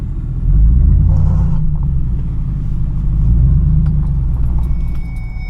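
Old high-mileage auction truck with 297,000 miles and only third gear working, its engine rumbling low and steady from inside the cab while driving, swelling slightly in places, with no talk.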